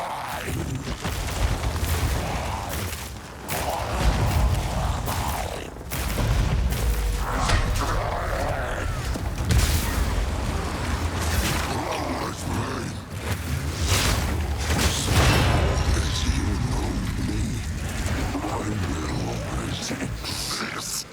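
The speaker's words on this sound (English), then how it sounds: "there was enough blood loss to trigger an explosion" Blood explosion in Path of Exile 2 set off by a blood mage build, a loud boom inside dense, continuous combat noise with repeated heavy impacts and bursts throughout.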